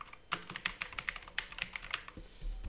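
Rapid, uneven typing on a computer keyboard while editing a document in Microsoft Word, with quiet close-up key clicks arriving in quick bursts and no voice.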